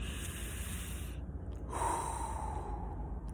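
A slow, close breath moves in and then out through the nose, airy and soft, with a faint snort-like edge and no talk.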